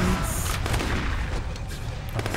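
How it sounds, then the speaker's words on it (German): In the open-world action game Sleeping Dogs, gunfire and explosions erupt in quick sharp bursts over a dense, loud backdrop of in-game noise, with no one talking. "More explosions!"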